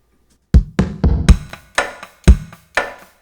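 Percussive hits played on a single acoustic guitar stand in for a full drum kit, with thumping kick-like body slaps and snappier strikes, about eight loud, close hits in an uneven groove with short decays.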